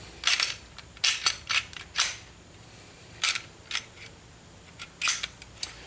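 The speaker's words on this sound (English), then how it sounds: "push that little tang back up there. That's it, the gun's back together." Smith & Wesson M&P pistol being reassembled, giving a series of sharp metallic clicks and snaps in irregular clusters, close and fairly quiet with pauses between them.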